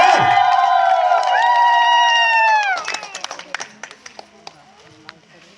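A gathering of the Western Odisha Adivasi Mahasangh in Sohela block, Bargarh district, greets a welcomed guest with loud, sustained voiced cheering and ululating cries that fade into scattered, sparse hand claps.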